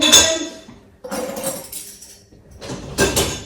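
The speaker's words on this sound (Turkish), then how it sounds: "Önce şu akşamdan kalan bulaşıkları yerleştireyim" Dishes and glassware clink and clatter in three separate bursts, close by, with brief pauses between as items are put away.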